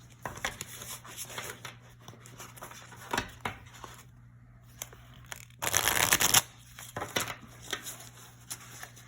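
Tarot cards are shuffled up close, quick riffling bursts and soft handling sounds, with one longer, louder shuffle near the middle.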